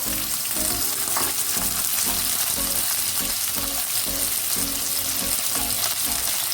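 Roughly chopped tomatoes, two large ones, hit hot oil in a pan with cashews and almonds, giving a loud, steady sizzle and crackle that holds for the whole stretch with faint stirring beneath.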